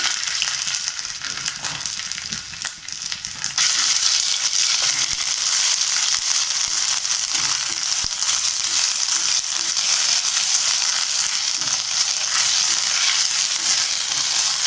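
Curry leaves, ginger and garlic sizzle in hot oil in a pan with a steady, close crackling hiss that grows stronger after a few seconds and holds evenly, with no talking.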